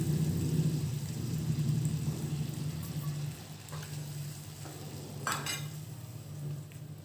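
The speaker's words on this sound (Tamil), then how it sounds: "அடுத்ததாக இந்த கரைச்சி வச்ச புளி கரைசலை சேர்த்துடலாம்." Tamarind extract goes into a pan of sautéed mint, coriander and curry leaves for a pickle, setting off a loud, dense sizzle that settles into steady frying, with a brief utensil clatter partway through.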